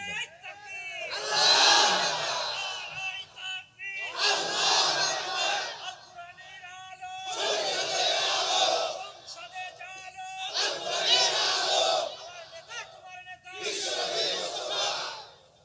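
A large crowd at an Islamic sermon shouts slogans in unison, loud rhythmic chants rising in five long waves with brief pauses between, echoing in a big space.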